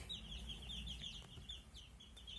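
Young chicks from a natural brood peep in a coop with a feeder and drinker, a steady run of high, thin, rapid chirps close by over a low background rumble.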